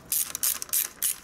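Ratchet wrench tightening a clamp on a motorcycle exhaust silencer: four short bursts of rapid clicking, each about a fifth of a second, close and fairly loud, with no talk.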